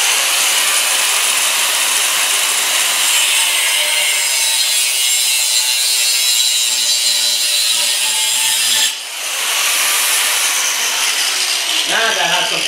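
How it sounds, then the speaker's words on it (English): A powerful grinder sharpening a metal part on a Snapper LT12 tractor being built for racing, a loud, continuous harsh hiss of abrasion close by with a brief dip near the end. "I'm going to use the grinder to sharpen it up."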